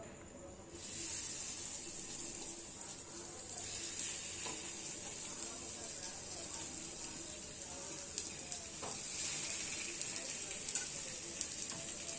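Marinated chicken pieces shallow frying in hot oil for chicken biryani, a steady close sizzle and hiss running the whole time with occasional sharper pops and spatters.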